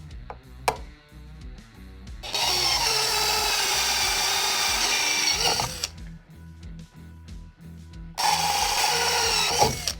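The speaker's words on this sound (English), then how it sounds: "Next step would be to mark and then drill two" A power drill bores two 3.1mm holes to mount an XLR socket on a Jamo D7 subwoofer, heard as two loud sustained whirring bursts after a few light clicks, with a brief quiet gap between them.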